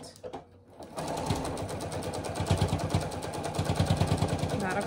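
A sewing machine stitches the seam of a fabric face mask, running steadily and close after a short quiet start, with a faint rhythmic mechanical whir throughout.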